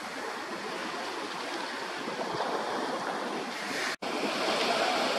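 Ocean waves wash along the shore at Point Loma, San Diego, a broad, steady roar of surf with some wind buffeting and one brief dropout.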